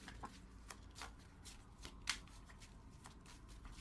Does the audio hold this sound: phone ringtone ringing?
no